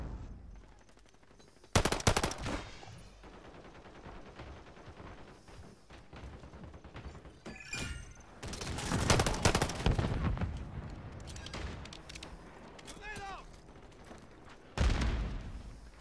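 Gunfire in Call of Duty: Modern Warfare III comes in several loud, close bursts of rapid shots, separated by quieter stretches of game ambience.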